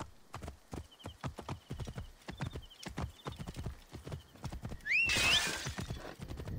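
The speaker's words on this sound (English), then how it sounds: "Horse." Steady clip-clop of horse hooves trotting at a regular rhythm in Assassin's Creed Origins, then a horse whinnies loudly near the end.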